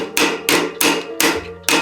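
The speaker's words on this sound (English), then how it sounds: "This is my great grandfather's little hammer here." A small hammer strikes metal five times in a quick, even rhythm, each blow sharp, ringing and close.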